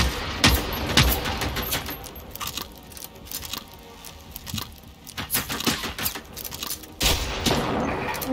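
Bursts of gunfire from the Generation Zero video game strike the player, rapid cracks and volleys over a busy game soundscape, loud and close with irregular clusters of shots.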